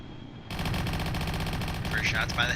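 Hellblade aircraft guns in Kerbal Space Program fire a sustained, rapid burst of loud mechanical gunfire that starts abruptly and rattles on continuously, with brief higher whistling tones layered in near the end.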